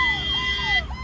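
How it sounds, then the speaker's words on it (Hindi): Wailing ambulance siren in night traffic, its sweeping tone sliding down over a steady rumble of engines from inside a car, loud and brief. "एम्बुलेंस है क्या?"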